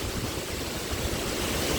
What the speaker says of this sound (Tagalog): Uy, ang lakas ang hangin.